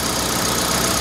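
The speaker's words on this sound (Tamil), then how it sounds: "என்ஜின் ரூம் ஓப்பன் பண்ணிட்டேன், என்ஜின் நாய்ஸ் பாருங்கள் வித் ஏசியோட" Petrol car engine idling with the air conditioning running and the engine bay open, a steady, loud, close hum with even vibration and no speech.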